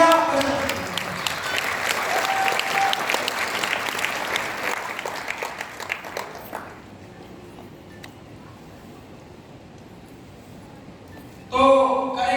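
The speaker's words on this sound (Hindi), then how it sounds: "तालियां बजाओ" A room of people at an AWPL business meeting claps together, loud and dense for about six seconds before dying away into quiet murmuring, with a short burst of voices at the end.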